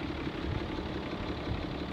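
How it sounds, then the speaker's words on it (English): A Cummins diesel truck engine idles steadily inside the cab, a continuous low, rumbling drone with faint knock, fairly loud and close, with no talking. "So listen to that engine."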